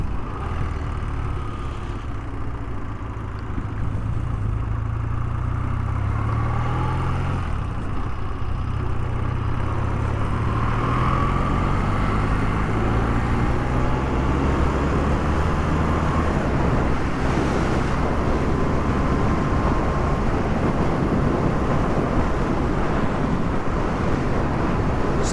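A BMW R100TIC motorcycle out on a road ride, its engine droning steadily with rising and falling pitch as it accelerates and shifts, mixed with continuous wind and road rumble.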